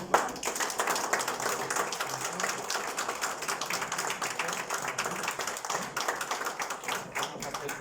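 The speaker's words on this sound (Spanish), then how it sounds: "pues le damos el último aplauso" An audience at an academic induction ceremony applauds a new member, sustained even clapping from a crowd lasting the whole stretch, with faint talk beneath.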